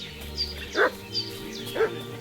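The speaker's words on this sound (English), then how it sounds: "What's that dog making such a fuss about?" A dog in Kingdom Come: Deliverance 2 gives a few separate, medium-distance barks in an irregular rhythm over a steady low background hum, with some higher yelping tones between them.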